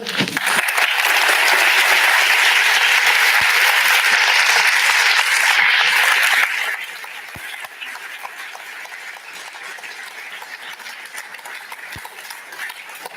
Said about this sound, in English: I think the applause speaks for itself